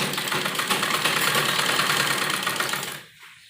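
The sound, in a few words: sewing machine stitching kurti sleeve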